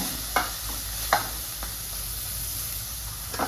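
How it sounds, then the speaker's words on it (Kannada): Fenugreek leaves frying in hot oil in a pan, with a steady sizzling hiss broken by a few sharp scraping stirs of a utensil, close and fairly quiet, no voices. "ಫಸ್ಟು ಮೆಂತ್ಯ ಸೊಪ್ಪು ಹಾಕಿ ಮೆಂತ್ಯ ಸೊಪ್ಪು ಎಣ್ಣೆಯಲ್ಲಿ ಬೇಯಬೇಕು"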